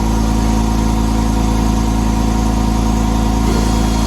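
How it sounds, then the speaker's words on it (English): A workshop air compressor runs steadily and loudly near at hand, a constant low mechanical drone with a fast pulsing throb that holds unchanged from start to finish, with no talk over it. "excuse the compressor"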